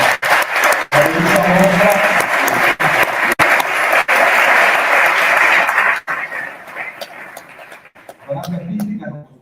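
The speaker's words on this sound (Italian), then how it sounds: "vale fare un grande applauso" An audience claps at the opening of an art exhibition featuring forty artists. The applause is loud and sustained at first, then thins into scattered claps, with voices talking over it near the end.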